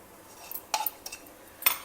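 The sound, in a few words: stirring raw mango pickle masala in a pan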